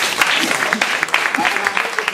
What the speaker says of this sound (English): isn't it a round of applause?